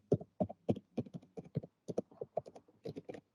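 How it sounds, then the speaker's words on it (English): Brisk, uneven tapping on a computer keyboard during an online meeting, rapid clusters of clicks close to the microphone with short pauses between bursts. "I can hear Kent is feverishly typing away."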